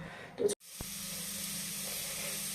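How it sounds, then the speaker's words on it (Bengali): Potatoes frying in a pan give a steady, close hiss and sizzle that runs nearly throughout, after a brief clatter and a short gap near the start. "আর এদিকে কিন্তু আলু ভাজা হচ্ছে"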